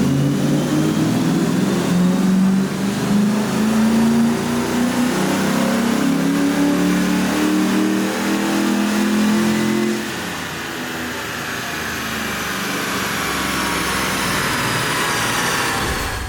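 A Fox Body Mustang engine revs hard on a dyno during a full-power pull after a tune-up, its loud rising roar climbing steadily through the gears for about ten seconds before backing off into a lower steady drone.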